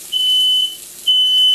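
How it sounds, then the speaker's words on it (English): A smoke alarm in a home kitchen beeps twice, two loud, piercing, sustained tones, each about half a second long, separated by a short gap. "That's the fire alarm because we have not great ventilation in my home kitchen."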